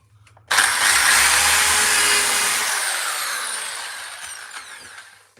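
A power drill drives screws into wood in a woodcarving workshop, a loud sustained whir starting abruptly after a brief quiet moment and slowly tapering over several seconds, heard alone without talk.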